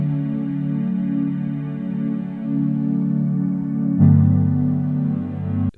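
A plain sine-wave synth pad, dry and smooth with no sampled texture, holds a sustained chord that shifts once near the end, steady and unaccompanied.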